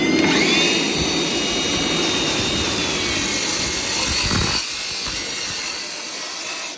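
A DeWalt power saw cuts through stone, a loud, steady whining grind that runs for about four and a half seconds and then drops away to quieter noise as the blade leaves the stone.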